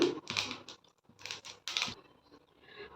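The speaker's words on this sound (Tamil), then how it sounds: "கடுகு வந்து பொறிஞ்சு வரட்டும்" Mustard seeds spluttering in hot oil while tempering for a ragi urundai recipe, a dense run of sharp crackles and pops in close bursts that fade toward the end, no talk.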